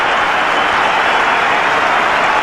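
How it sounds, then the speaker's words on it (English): A cricket stadium crowd in Lahore at an India versus Pakistan match applauds VVS Laxman's first fifty against Pakistan, a dense, steady roar of clapping and cheering that fills the whole stretch without a break. "The crowds are up there appreciating his efforts"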